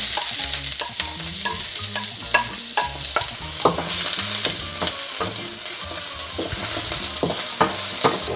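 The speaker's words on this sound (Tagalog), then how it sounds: "Magpainit agad kayong mantika. Tapos, maggisa kayo ng onion." Onion sautéing in hot oil for pancit miki guisado, crackling and sizzling up close with frequent rhythmic stirring clacks of a utensil against the pan, no voices.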